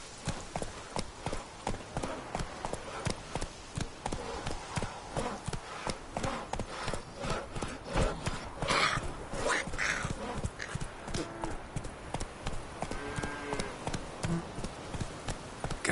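Horse hooves gallop in The Witcher 3 video game, giving a steady, close clip-clop rhythm for the whole stretch with faint ambient game sound underneath.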